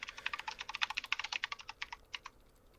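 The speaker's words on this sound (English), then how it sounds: "I hear you use a mechanical keyboard" Rapid, crisp clicks of typing on a mechanical keyboard, about twenty keystrokes in an uneven burst, close and fairly quiet, tapering off near the end.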